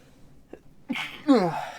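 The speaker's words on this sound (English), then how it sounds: "Pardon me while I sneeze" A single sharp sneeze, preceded by a short intake of breath, close to the listener and otherwise quiet.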